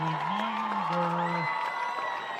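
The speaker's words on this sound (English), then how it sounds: "A lot of applause from the crowd after a great play." Crowd at a high school varsity football game cheering and applauding after a great play, a steady murmur of fans with a sustained shout or horn-like voice near the start.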